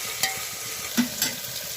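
Onions frying in oil in a pan for spicy kanki khichdi, a continuous close sizzle with a few light clinks and stirring taps from a utensil.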